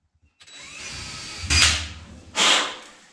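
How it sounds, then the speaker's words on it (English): A power drill bores a couple of small holes while an LED grow light is being mounted, two short, loud whirring bursts about a second apart over a quiet background. "I'll drill a couple of small holes."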